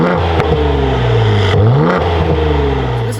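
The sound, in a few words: SUV exhaust revving with aftermarket mufflers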